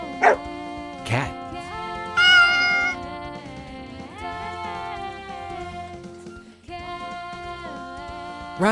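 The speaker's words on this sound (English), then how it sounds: "Cat." A domestic cat meowing, close and fairly loud, a few drawn-out tonal meows spread over several seconds over a faint background; no talking.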